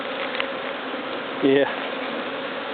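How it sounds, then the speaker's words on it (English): Honey bees around a hive hum in a dense, steady buzz close by, with a brief louder swell midway and a short word spoken over it. "these bees would eat you up right now"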